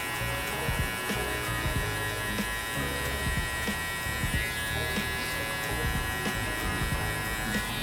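Electric hair clippers buzz continuously and close up while cutting hair during a mid taper fade, a steady loud hum with small rustling variations from the blade moving through the hair.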